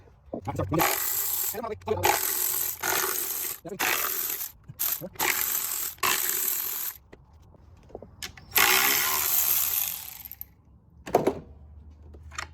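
Bursts of hand-tool ratcheting and loose metallic clatter on the plenum bolts of a 2008 Dodge Charger V6 come in several close, loud runs, separated by short pauses and soft handling noises.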